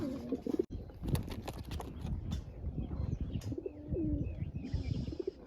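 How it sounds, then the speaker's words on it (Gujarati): Pigeons coo and chirp at a water spot set out for them, several soft calls repeating close by over a steady outdoor background, with a brief wing flutter. "કબૂતર આવી ગયા છે પાછા"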